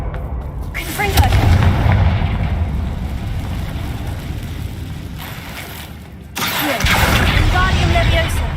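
Confringo blasting spell in the video game Hogwarts Legacy, heavy booming blasts with rumbling low-end impacts, one near the start and another after a lull, layered over continuous game ambience.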